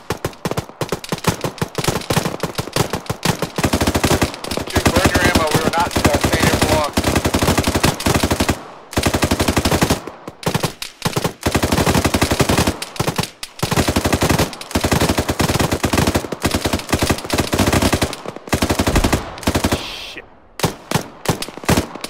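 Sustained, loud machine-gun fire in the Arma military shooter, long rapid automatic bursts broken by a few brief pauses, close and dense throughout.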